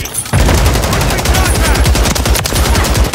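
Sustained automatic gunfire in Call of Duty Modern Warfare 3 multiplayer, a dense rapid volley of close, loud shots that starts after a brief lull and keeps going, with a voice talking underneath.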